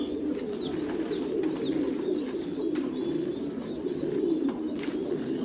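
Pigeons in a breeding coop, with repeated soft cooing calls rising and falling over a steady low murmur of many birds, close and continuous.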